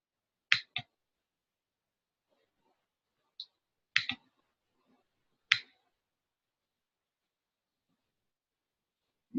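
Sparse, sharp computer mouse clicks in a quiet room, four or five isolated single and double clicks spaced a second or more apart with near silence between them.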